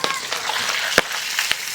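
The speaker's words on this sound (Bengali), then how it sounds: "মাছের মাথা ভাজা কমপ্লিট হয়ে গেছে" Steady crackling sizzle of fish heads frying in hot oil, close up, with a couple of sharp pops and clinks.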